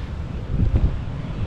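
Strong outdoor wind in the Newcastle area, Australia, buffets the microphone in a continuous low, rumbling roar with gusty swells.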